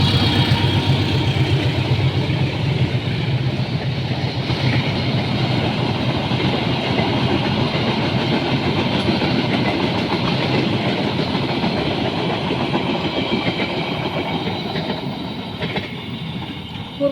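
A train passes at night in Tambun, West Java, Indonesia, with a loud continuous rumble and rhythmic clickety-clack of wagons that holds steady before slowly easing off.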